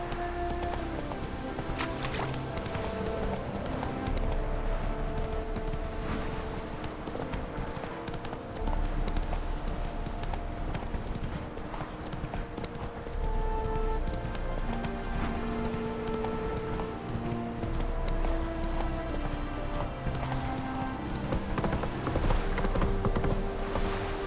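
Roach the horse galloping in The Witcher 3, a continuous rhythmic clip-clop of hooves over a busy game soundtrack of music and ambience, loud and unbroken throughout.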